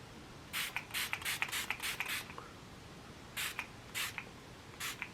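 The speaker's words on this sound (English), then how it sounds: "We're gonna set this with the setting spray." Makeup setting spray pumped in quick bursts: a cluster of short hissing sprays, then a pause, then a few more spaced sprays, close and fairly quiet.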